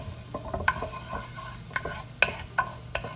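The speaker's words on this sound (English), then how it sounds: "generous drizzle of olive oil in, and then we'll put our garlic in there and the cayenne pepper. Give it a stir." Garlic and cayenne pepper stirred in sizzling olive oil in a pan, a low continuous sizzle broken by repeated scraping and clinking strokes of a spoon, close and moderately loud, without speech.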